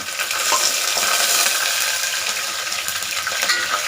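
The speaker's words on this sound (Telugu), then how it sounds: "ఆనియన్ని బాగా ఫ్రై చేసుకోవాలి బాగా గోల్డెన్ బ్రౌన్ వచ్చే వరకు ఫ్రై చేసుకోవాలి" Thinly sliced onion frying in oil with green chillies for mushroom pulav, a dense, bright sizzle heard up close, with faint stirring scrapes through a short burst.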